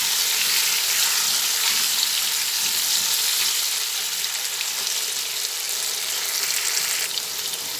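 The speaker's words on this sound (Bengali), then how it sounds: "আলুটা ভাজা হচ্ছে" Potatoes with turmeric frying in a pan, a steady dense sizzle running the whole time with occasional faint stirring scrapes, close and fairly loud with no talking.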